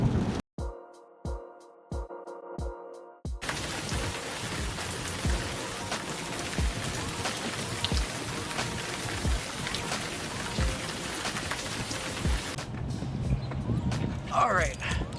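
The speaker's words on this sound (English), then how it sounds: "We're on a country road, going 55, in the rain." Rain pelts a car driving at about 55 mph on a country road, a steady close hiss of drops and road spray with sharp wiper-like thumps at the start.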